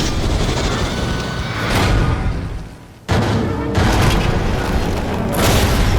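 Explosions in a Deadpool video game hit as loud, heavy booms over a dense rumbling din, with a sudden cut to near silence at the midpoint before another blast and sustained rumble resume.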